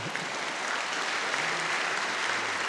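Graduation ceremony audience applauding in a large hall, a steady wash of many hands clapping at a moderate level and slightly distant, with no voices over it.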